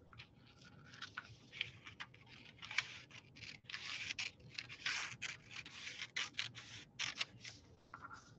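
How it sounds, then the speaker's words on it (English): Paper scissors snip through a paper pattern for a dog cape up close in a quick series of crisp cuts and rustles, quiet and without talking. "cut this out with my paper scissors."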